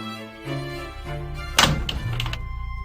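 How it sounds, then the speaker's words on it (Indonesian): A door is opened indoors with a solid thunk and a short rattle of handle and latch, set against a steady low background hum. "saya akan membuka pintu"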